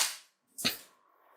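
JUND M4 gel blaster converted with an AEG gearbox firing a test shot, a sharp close crack preceded by the tail of an earlier shot, then a faint fading hum.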